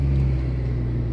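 A car's transmission whines steadily inside the cabin, a loud, continuous tonal drone over low engine rumble, unbroken for about a second. No one speaks.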